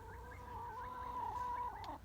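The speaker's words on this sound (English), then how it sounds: "they heard loud clucking coming from the hen house" Hens in a hen house cluck and squawk in a steady, fairly close chatter with rising calls, no voices present.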